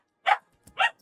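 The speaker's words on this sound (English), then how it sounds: "You most likely heard the little dog having a bark." A small dog gives two short, sharp barks a moment apart, fairly close and loud, with a faint extra yip trailing after, in an otherwise quiet room.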